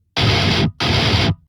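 Heavily distorted electric guitar through a 14 Nameless amp with a GGD Cali cabs impulse response, two loud, dense chugging bursts with a short gap between, full and wide with no talking.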